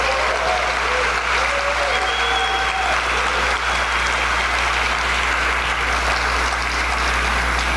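A theatre audience at a jazz festival in the Teatro Amazonas applauds the double bassist, with thick, continuous clapping filling the hall evenly for several seconds and a few faint whistles early on.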